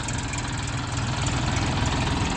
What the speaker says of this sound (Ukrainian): Відвантажуємо сьогодні тракториця Ловол 244 на вузькій резині